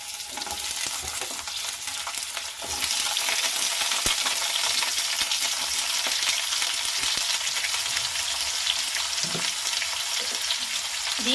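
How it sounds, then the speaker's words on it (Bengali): Sliced ridge gourd hitting a hot spice tempering, a steady loud sizzle that swells as the pieces go in, with occasional stirring scrapes, close and continuous. "এরপরে আমি এর মধ্যে দিয়ে দিচ্ছি কেটে রাখা ঝিঙেগুলো।"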